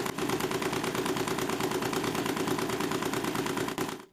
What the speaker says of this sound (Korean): 소리가 거의 내연기관처럼 스털링 엔진답지 않게 들리긴 하네요